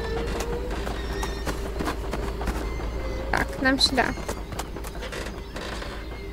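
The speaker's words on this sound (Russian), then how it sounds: "Лошадка." A horse in a circus-themed horror video game gives a neigh with its rising, quavering whinny in the middle, while hooves clip-clop and other game noises tick around it, and someone speaks briefly in the clip.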